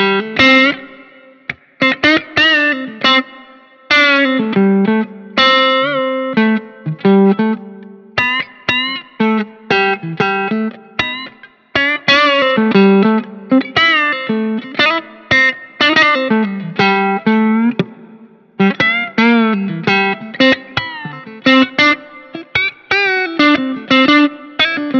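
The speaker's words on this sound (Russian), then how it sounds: "подтяжечки такие на четверть тона, на восьмую тона, которые звучат обычно вот так в контексте каких-то блюзовых историй" Electric guitar played blues style with distortion and effects, using slight quarter-tone and eighth-tone string bends. Loud phrases of bent notes and short licks come in uneven bursts with brief pauses, with no voice over them.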